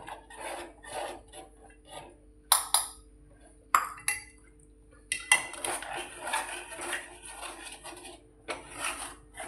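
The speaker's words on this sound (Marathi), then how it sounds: "त्याच्यामध्ये पीठ टाकते आणि ढवळते. पीठ थोडं थोडं टाकून ढवळायचं." A spoon stirs flour into a pot, scraping and clinking against the metal in quiet, uneven bursts with short pauses between them.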